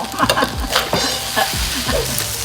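Blanched shrimp stir-fried with fried rice in a pan, a steady close sizzle broken by repeated scraping strokes of a spatula at an uneven rhythm, with no talking.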